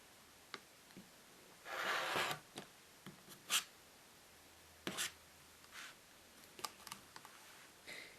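Scissors cutting off excess fabric while sewing a small pouch, a few soft snips and rustling brushes near and quiet, separated by short clicks and pauses, with no talking.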